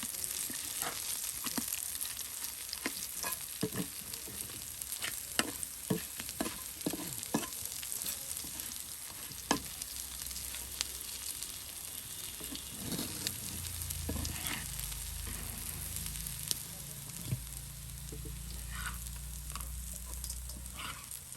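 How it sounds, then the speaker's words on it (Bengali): Beguni, battered eggplant fritters, sizzle in deep oil for an iftar meal, a steady crackling hiss broken by frequent sharp pops and the clatter of stirring, close and fairly quiet with no talk. "এখন বেগুনি ভাজা হবে।"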